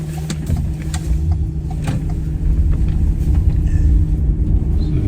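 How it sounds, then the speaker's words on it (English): An electric van drives along country lanes, with a steady, moderately loud road rumble and tyre noise heard from inside the cab, no one speaking. "So just done a quick run down some country lanes"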